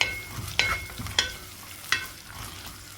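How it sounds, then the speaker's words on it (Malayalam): Onion and tomato fry in a pan while being stirred, quiet sizzling broken by four sharp scraping strokes of a spoon at regular intervals, close and without talking. "സവാള നന്നായി വാടിയിട്ടുണ്ട് ഇനി തക്കാളി ഇട്ട് കൊടുക്കുക"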